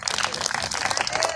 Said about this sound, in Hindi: पारस बत्रा जी की परफॉर्मेंस पर जोरदार तालियां हो जाए एक बार।